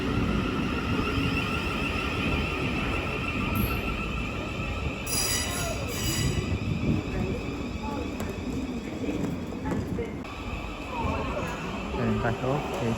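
A Class 700 Thameslink unit, 700 032, pulls away from a London terminus on a Bedford service, wheels squealing and a steady rolling rumble filling the whole stretch, with a voice talking over it.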